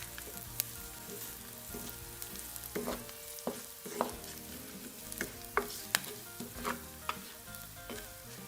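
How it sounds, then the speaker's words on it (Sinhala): Chili powder and spices temper in hot oil in a pan for a kohila (lasia root) curry, making a soft continuous sizzle broken by repeated sharp spoon clinks and stirring scrapes. "මම මේකට මිරිස් කුඩු ටිකකුයි 3-5 කුඩුයි එකතු කරගෙන මේ ටික හොඳට ටෙම්පරාදු කරගන්නවා"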